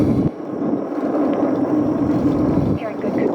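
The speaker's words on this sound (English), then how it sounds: "All 4 RS-25 engines on the core stage and 2 solid ballast boosters are now propelling the vehicle" Artemis I Space Launch System rocket climbing on four RS-25 core-stage engines and two solid boosters, a steady low, broad roar with a voice talking over it.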